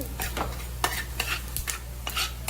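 Ingredients roasting in a little oil in a pan, with repeated scraping and stirring strokes over a faint steady sizzle, close by and moderately quiet, with a low hum underneath.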